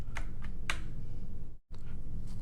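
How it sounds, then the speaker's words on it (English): A Keychron C2 keyboard with DSA keycaps, whose keys stick when bottomed out, gives a few soft, close clicks of single key presses in a quiet room. "If I bottom out, there's a lag on like return time. It'll go, but it'll get stuck."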